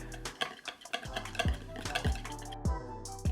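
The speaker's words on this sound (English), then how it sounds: "And now we're going to whisk all of this together." Light corn syrup, lemon juice and other vinaigrette ingredients being whisked together in a bowl, giving quick uneven clicks and taps of the whisk against the bowl, close and moderately quiet.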